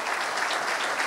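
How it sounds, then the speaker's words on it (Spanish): Awards ceremony audience applauding, a dense, steady burst of clapping filling a short moment without pause. "un fuerte aplauso para todos"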